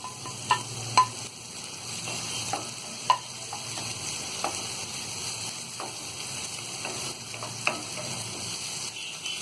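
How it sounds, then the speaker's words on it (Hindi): Green chillies, onion and capsicum fry lightly in a pan for white sauce pasta, giving a low continuous sizzle. Frequent spatula taps and stirring scrapes sound close by. "सिर्फ हल्का सा फ्राई करना है। इसी में हम ये हरी मिर्च डाल देंगे।"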